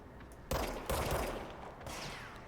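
Video game gunfire: two sharp, close shots in quick succession early on, followed by a lower rumbling tail and a softer burst near the end.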